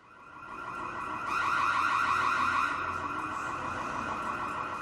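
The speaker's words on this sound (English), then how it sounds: "Now, don't be alarmed because you are going to hear an alarm sound." An electronic alarm wails inside a Dutch shopping mall, a steady, piercing warble that swells to a peak and holds, echoing through the large indoor space with no voices.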